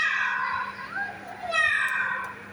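A voice imitates a fierce cat, producing a couple of drawn-out, wavering meow-like cries with a short pause between them, close and moderately loud.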